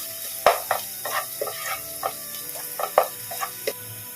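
Garlic sautéing in a pan for Korean chilli garlic potato, a steady soft sizzle broken by repeated light scraping and stirring clicks from a utensil, close and moderately quiet with no talking.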